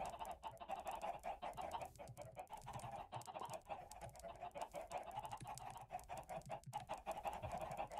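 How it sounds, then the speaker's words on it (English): Chickens clucking in Minecraft during a streamed game, a busy run of small clucks and chatter lasting several seconds, quiet and steady, with no talk over it. "I can hear the chicken pitter pitter patter on your stream."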